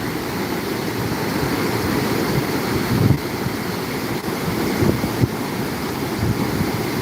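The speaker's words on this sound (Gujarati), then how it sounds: "એમનો પાણીનો પ્રવાહ માત્ર બે ફૂટય નહીં હોય તો પણ એટલો અવાજ છે" The Tapi river in Surat flows shallow, about two feet deep, with a steady, loud, broad rush of water and a few brief bumps. Wind or handling noise mixes into the unbroken roar.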